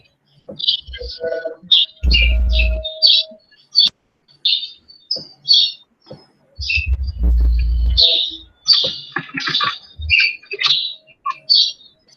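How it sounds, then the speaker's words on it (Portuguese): Small birds chirp, tweet and squawk in loud, close bursts right beside a microphone left on during an online class, with a few brief low sounds between calls. "É os passarinhos malditos dele."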